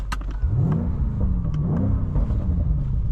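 A 2021 BMW M5 Competition engine accelerating hard from the cabin, a loud rising growl that climbs through gear changes with brief dips between pulls, close and continuous.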